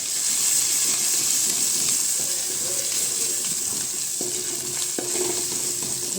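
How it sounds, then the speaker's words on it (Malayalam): Spice powders roasting in hot oil on a low gas flame for a homestyle pickle, giving a loud, steady hiss and sizzle throughout with a few faint clinks. "ഗ്യാസ് കുറച്ച് വെച്ച് നന്നായിട്ടൊന്ന് മൂപ്പിച്ചെടുക്കാം"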